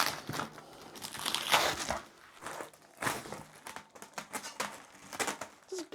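Heavy packing tape being peeled and crinkled off the packaging of an 18-inch Zultan Dark Matter china cymbal, a run of close, irregular crackling rips and crinkles with brief quiet gaps.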